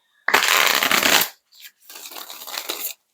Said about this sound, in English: I'm just gonna shuffle one more time.